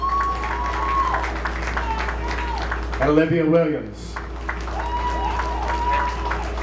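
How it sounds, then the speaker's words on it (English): Applause from an audience at a high school athletic awards ceremony for a girls track and field team, steady clapping under a voice on a PA announcing a name, with a swell of cheering partway through. "Let's have a big round of applause for the 2021 girls track and field team."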